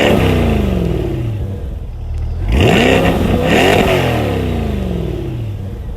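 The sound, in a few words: V8 sports car engine revving, performance exhaust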